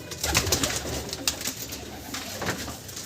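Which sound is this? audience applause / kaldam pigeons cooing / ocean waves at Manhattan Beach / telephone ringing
kaldam pigeons cooing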